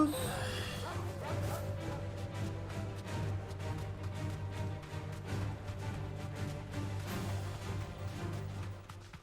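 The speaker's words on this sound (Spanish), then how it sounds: "Perros." Dogs bark and yip in a Final Fantasy video game, a rapid run of sharp barks spread through the stretch over a low, steady game soundtrack drone.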